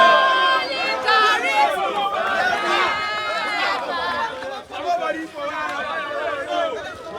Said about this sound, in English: The crowd is cheering. Everyone is excited.